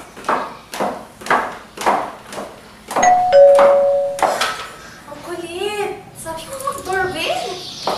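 A doorbell rings once around the middle with a bright two-tone chime, amid children's voices and playful chatter before and after it, fairly close and clear.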